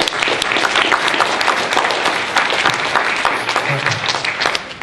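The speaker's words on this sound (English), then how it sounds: "You can clap it up for Jesus Christ." An audience at a church gathering breaks into sustained applause, dense clapping from many hands filling the room for several seconds before tapering off near the end, with a voice briefly heard beneath it.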